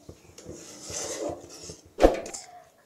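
Tur dal pithla being stirred in a pan, with soft scraping and a sharp clack of a utensil against the pan near the end, close and fairly quiet, no talking.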